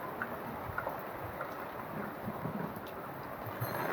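Heavy rain pours down in a steady, dense hiss with a low rumbling wash beneath, continuous and even throughout, faint overall and without talk.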